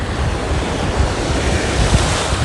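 Ocean surf on a chilly Florida beach roars steadily and loud, with moderate waves washing in under heavy wind buffeting the microphone and no voices.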